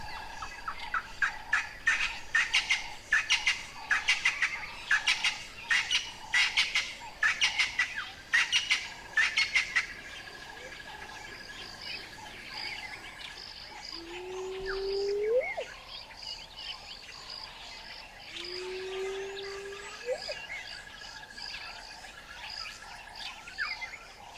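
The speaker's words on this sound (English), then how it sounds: "we stopped to listen to the dawn chorus" Outdoor birdsong at daybreak: a busy, rhythmic chatter of calls, then quieter ambience broken by two separate rising whistles from more distant birds.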